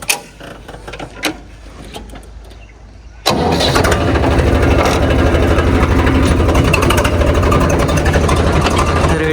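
A tractor engine on a farm turns over after some quiet clicks and handling noises, then catches and settles into a loud, steady, close chugging idle that continues for the rest of the clip.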